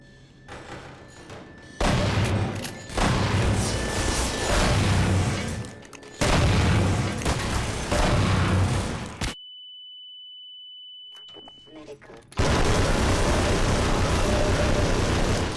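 Heavy automatic gunfire from the video game Coterminus comes in long, loud sustained bursts. The shooting breaks off for a steady electronic tone, then resumes at full volume.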